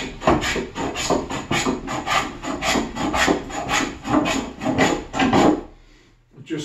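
A hand plane shaves across the grain on the underside of a white cedar counter, making a steady series of rasping, scraping strokes close by in quick rhythm before stopping.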